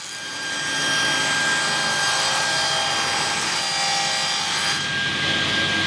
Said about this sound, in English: let me cut these down to a more reasonable size